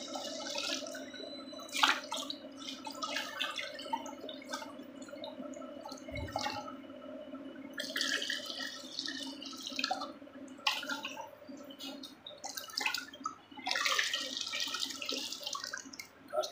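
Caustic soda solution, premixed in water, is poured into a dish wash liquid mix, giving intermittent splashing and trickling with drips over a low steady hum, fairly quiet.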